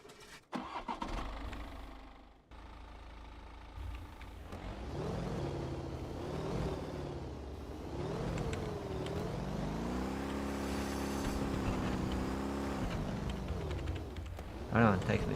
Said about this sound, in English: I usually drive around 3rd gear. That does the best on the snow.